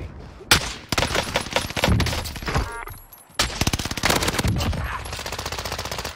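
Rapid automatic gunfire in Call of Duty: Warzone on Rebirth Island, loud and close, with dense bursts of shots, a brief lull, then a fast, steady stream of rounds.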